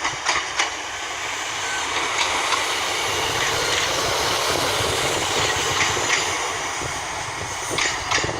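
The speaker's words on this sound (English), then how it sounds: "the final train here for me today at Norwich" Class 153 unit 153314 passes through Norwich station with a steady, loud rumble and rhythmic wheel clatter across the rails, lasting the whole stretch.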